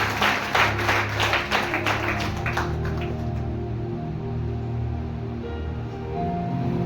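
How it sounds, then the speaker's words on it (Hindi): A church congregation claps hands during worship, a dense burst of rhythmic clapping over the first few seconds that fades out, leaving sustained music with a low hum underneath. "ताली बजाकर प्रभु को महिमा करें।"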